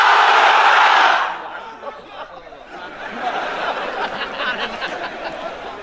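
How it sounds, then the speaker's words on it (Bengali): A crowd of unmarried men at a religious gathering roars a loud collective takbir chant in one burst, then the massed voices fade into a lingering murmur and scattered calls. "এবার অবিবাহিতরা দাও লিল্লাহি তাকবীর।"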